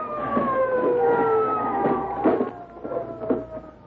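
A police car siren wails loudly and steadily in a 1940s radio drama, its tone sliding downward in repeated sweeps with no talking over it.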